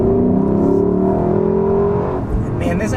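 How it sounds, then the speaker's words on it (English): A 2024 Lexus LC 500 with active exhaust, its engine droning loud and steady close by with a rising rev before easing off near the end. "this active exhaust sounds so good too"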